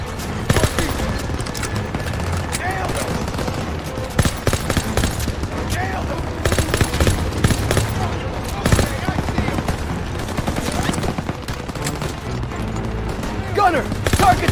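Call of Duty WW2 battlefield with an MG-42 nest firing alongside tanks, dense bursts of gunfire and loud booms crowding each other under shouted voices.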